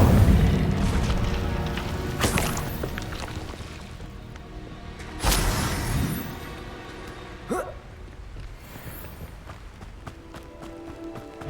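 A fire spell cast in the Hogwarts Legacy video game gives a sudden booming burst. A second blast lands a few seconds later, with further thuds and a low rumble of game sounds underneath.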